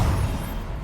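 A Bombarda explosion spell going off in Hogwarts Legacy, a single low, rumbling blast that fades out over under a second.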